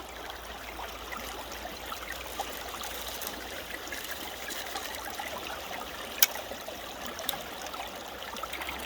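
Water runs steadily through a placer gold sluice rigged with a dream mat combo, a constant soft hissing trickle close by with a couple of faint clicks, and no voices over it.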